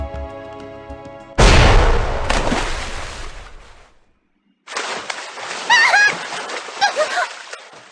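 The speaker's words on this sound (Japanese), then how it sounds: "Shinozaki, this is your second time drowning in blood pool." A character plunges into a blood pool in the horror game Corpse Party: Blood Drive, a loud sudden splash that tapers off, then after a brief silence a sloshing, churning water sound returns with faint sharp accents.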